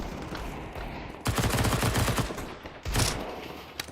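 Rapid SMG gunfire in a video game esports match, Iberian Soul versus TNL in a group stage: a dense, loud burst of shots followed by a shorter second burst and a final single crack, with steady ambient game noise between.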